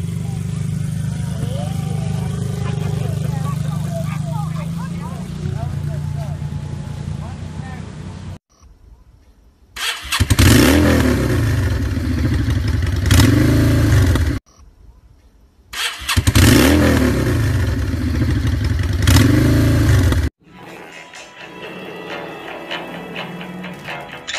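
A 2013 motorcycle engine starts and revs loudly in bursts, with quieter pauses between, close by and dominating the scene.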